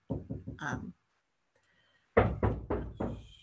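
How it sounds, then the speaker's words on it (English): A child knocks on a door indoors in two quick bursts of about four raps each, close and fairly loud, separated by a quiet pause. "My little girl is knocking on the door,"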